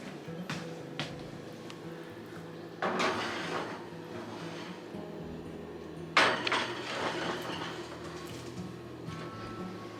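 Metal cake pans are handled in a home kitchen, two clattering bursts of scraping and knocking a few seconds apart over a quiet room background.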